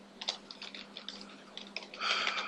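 Typing on a computer keyboard while entering a name, a quick run of light clicking keystrokes close up, with a denser burst of taps toward the end and no talking.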